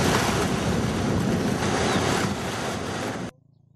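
Flood water released downstream from a Krishna river reservoir, a loud continuous roaring rush of water that cuts off abruptly near the end.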